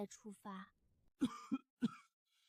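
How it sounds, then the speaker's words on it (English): A child or young cub coughs three times in quick succession from a cold, each cough sharp and close, following a short stretch of speech. "Coughing."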